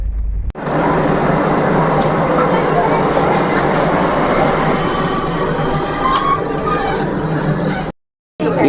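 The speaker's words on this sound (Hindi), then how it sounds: "ये ट्रेन आके पहुंच गया है दुर्गापुर पे" Howrah Bikaner superfast express pulling into Durgapur station, a loud continuous rumble of rolling wagons and wheels with faint high squeals, steady throughout, then cutting off abruptly near the end.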